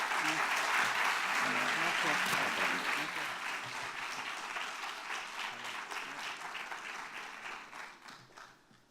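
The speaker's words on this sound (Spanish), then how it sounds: "que bien es merecedora de un fuerte aplauso" An audience at a mental health rights panel gives the speakers loud, sustained applause. Many hands clap in a dense, even roar that slowly fades and thins toward the end.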